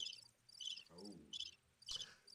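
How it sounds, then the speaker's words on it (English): Crickets chirping in short, evenly spaced bursts against a quiet night background, faint and close, with a brief low murmur in the middle. "Crickets."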